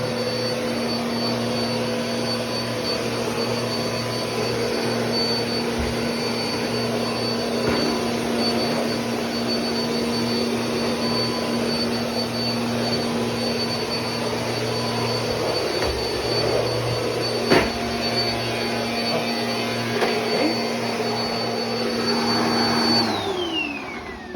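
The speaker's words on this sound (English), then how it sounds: "it's not a very good idea to use a vacuum with only one motor on a hard floor" A Bissell Power Force Compact single-motor vacuum cleaner runs continuously on a hard floor with a loud whining motor hum and airy rush, sustained for a long stretch before powering down at the end.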